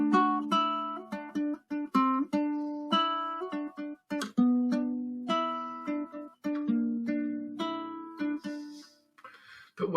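A ukulele picks out a chord melody arrangement of a song, clear plucked notes ringing over held chord tones in a gentle, unhurried rhythm, played close and alone.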